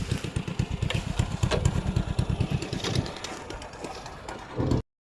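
A motorcycle engine runs nearby on a trip to the farm, its rapid, even chugging pulses strongest early and then fading to a softer idle before cutting off abruptly at the end.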